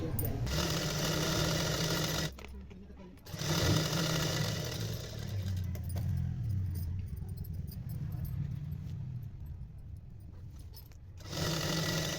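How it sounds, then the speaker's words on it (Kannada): A sewing machine runs in steady bursts while stitching a fabric strip onto a readymade blouse, loud and close, with brief pauses between runs and a voice speaking over it. "ಈ ಪೀಸಲ್ಲೇ ನಾನಿಲ್ಲಿ ಡಬಲ್ ಪಟ್ಟಿ ಸಿಂಗಲ್ ಪಟ್ಟಿನ ಹೊಲಿತಾ ಇದ್ದೀನಿ"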